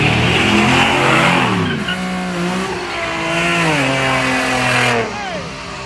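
A Scat Pack and a Chevrolet Silverado race at the Yellow Belly drag strip, their engines roaring and revving loudly through rising and falling gear changes, with people talking over the noise.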